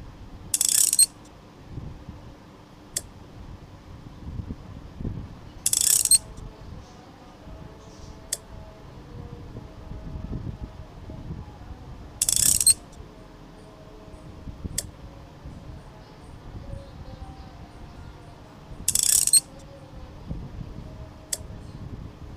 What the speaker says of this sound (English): Fit the screw by using screwdriver.